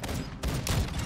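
Gunfire in the video game Modern Warfare 2: a short, rapid burst of close shots in two or three clusters, loud and sharp, with no one talking over it.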